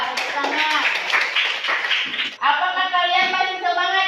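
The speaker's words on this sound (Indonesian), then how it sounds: "Tepuk tangan." Schoolchildren clapping their hands together in a classroom, a brisk burst of many small hands under a lively young voice, then breaking off into sung or chanted children's voices.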